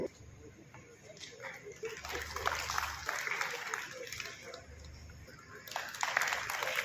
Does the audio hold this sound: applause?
yes